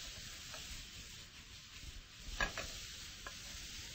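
Thinly sliced potatoes stir-fried in a pan give a steady, close sizzle, with a few sharper scrapes and clatters of the stirring utensil around the middle and once more near the end.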